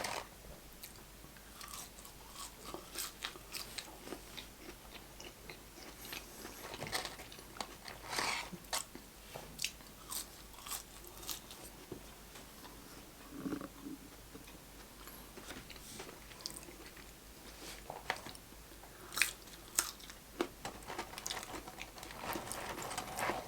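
Close, quiet chewing and crunching of McDonald's chicken nuggets, a Quarter Pounder, hash browns and large fries, with irregular bites and mouth sounds in a continuous stream of eating and no talking.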